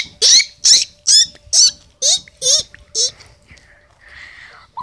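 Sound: guinea pig squeaking

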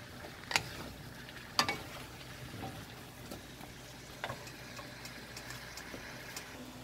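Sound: squash sautéing in butter

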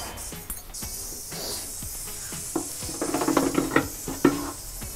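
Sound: mustard oil poured into hot pan for rajma

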